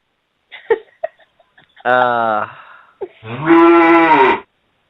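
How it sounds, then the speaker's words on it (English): A big cow moos twice nearby, the second call longer and louder, each a full drawn-out bellow, with a few faint knocks and clicks before them. "There was a big cow."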